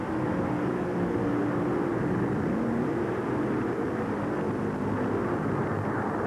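Drag racing cars at the 1989 NHRA Supernationals make a loud continuous roar with a deep rumble, steady and dense throughout and sounding broad and somewhat distant, with no speech.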